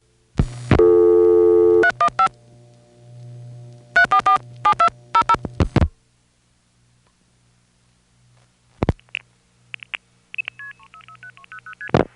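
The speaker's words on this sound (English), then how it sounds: "So now let's try vacant number intercept in this town." A long-distance telephone call from New York City into New York's 315 area reaches a vacant number intercept: clear DTMF dialing tones, then a silent pause, a click and a series of stepped electronic tones.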